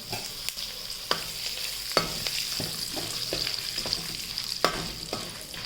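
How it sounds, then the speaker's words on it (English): Curry leaves, urad dal and a pinch of turmeric fry in a pan for tamarind rice, giving a steady sizzle broken by sharp spoon scrapes and clicks against the pan, with no one talking. "let it get fried."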